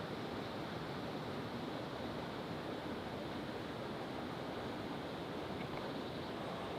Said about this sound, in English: The rushing water is the weir behind me.